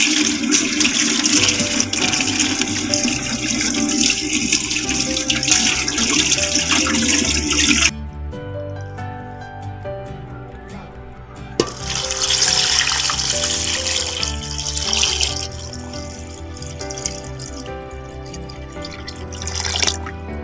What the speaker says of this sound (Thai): เอามาล้างน้ำให้สะอาดก่อนนะครับ